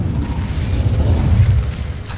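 An Incendio fire spell is cast in a magic-themed video game, a deep rumbling whoosh of flame that swells and holds for a couple of seconds, loud and close.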